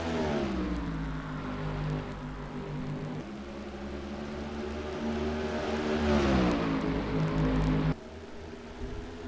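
Race cars accelerating at Dover in a racing video game, a loud layered engine drone with rising and falling revs. It runs steadily throughout, then drops abruptly to a lower, quieter level near the end.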